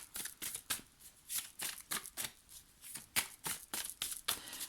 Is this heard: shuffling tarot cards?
yes